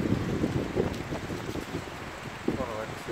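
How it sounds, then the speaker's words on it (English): Wind buffets the microphone outdoors in a park, a steady, loud, rumbling roar through the whole stretch, with a voice faintly present underneath. "It's windy today."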